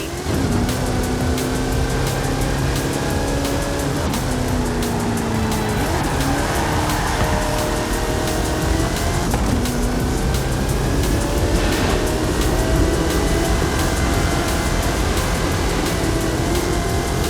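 Hot Wheels monster truck with a 540 cubic inch Chevrolet engine and 66-inch Terra tires, driven in the racing game Forza Horizon 5, roaring steadily with shifting engine pitch and tire squeals throughout, loud and continuous with no talk.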